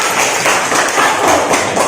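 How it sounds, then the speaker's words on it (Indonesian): A class of students claps hands together in a classroom, a dense, steady patter of applause filling the whole stretch without voices. "Tepuk tangan untuk semua."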